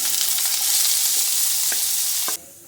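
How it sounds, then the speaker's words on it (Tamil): Chopped large onions sautéing with cumin in hot oil in a kadai, a loud steady hiss with a few clinks of stirring, then the sizzle drops away abruptly near the end. "வெங்காயத்தை வந்து நல்லா வதக்கணும் கலர் சேஞ்ச் ஆகிற வரைக்கும் நல்லா வதங்கட்டும்"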